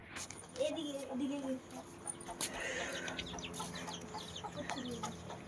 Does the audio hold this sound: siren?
no